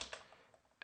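A few quiet computer keyboard keystrokes, three soft clicks spread across under a second, close and faint.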